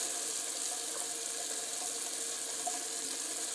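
Hot tap water runs steadily into a sink while a shaving brush is rinsed out, a continuous close hiss with no breaks.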